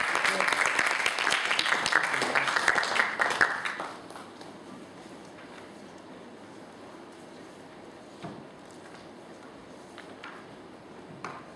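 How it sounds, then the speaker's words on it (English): Audience at a middle school English speech competition applauds a contestant, loud dense clapping for about four seconds that then thins to scattered faint claps and room noise. "Please give her a round of applause."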